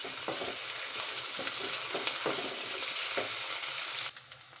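Curry leaves sizzle in hot oil in a frying pan as they are stirred, a steady crackling hiss with soft scraping strokes that cuts off abruptly near the end.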